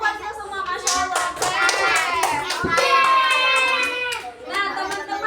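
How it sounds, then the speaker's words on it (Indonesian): Children clap their hands together in a classroom activity, a burst of rapid claps under lively chatter and singing voices, ending in a few louder, sharper claps. "tepuk tangan dulu buat kita semua"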